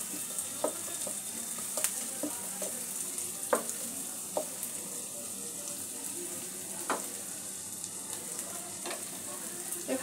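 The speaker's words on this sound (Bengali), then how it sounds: "সব কিছু একটু ভালো করে ভেজে নেব।" Vegetables frying in butter in a pot for chicken soup, a soft continuous sizzle with scattered sharp clicks and scrapes of stirring, fairly quiet and close.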